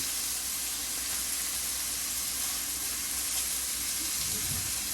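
Moroccan spiced chicken sears in a hot pan, a loud, steady close-up sizzle and hiss of frying fat holding unbroken throughout, with a faint low thump near the end and no talk.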